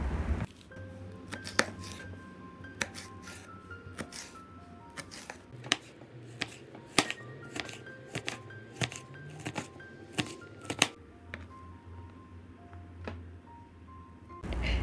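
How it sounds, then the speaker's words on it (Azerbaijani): A large red sweet bell pepper is diced into small cubes on a cutting board, heard as a series of sharp, irregular knife taps up close, with a faint tonal background underneath. "Bir iri qırmızı şirin biberin tumlarını təmizləyib xırda kub şəklində doğrayırıq."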